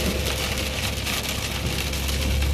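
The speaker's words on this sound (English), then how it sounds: "It's pouring down rain" Heavy rain and hail pour down in a hailstorm, a dense, loud, continuous drumming and hiss with scattered sharper hits, steady throughout with no voices.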